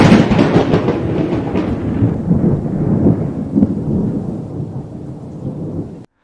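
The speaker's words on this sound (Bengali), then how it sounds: "সঙ্গে তীব্র বজ্রপাত আর বাজ।" Loud, close thunder rolls continuously during a heavy thunderstorm with rain, a deep rumble that fades slightly toward the end, with no voices.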